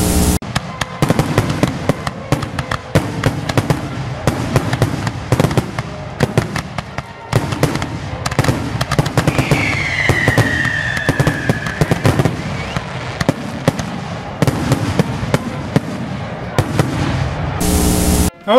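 Fireworks going off in GTA 5 Online free mode on Independence Day: a near-constant barrage of cracks, bangs and booms for nearly twenty seconds, with one whistling rocket rising midway and a brief noise burst at the very end.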